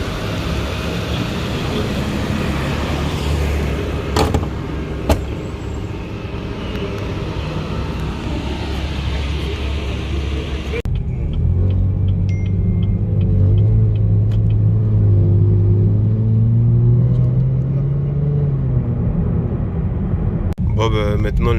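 A Chevrolet Camaro RS with a V6 engine idles with a low, loud rumble that shifts into a deeper, rising drone partway through, steady and close throughout.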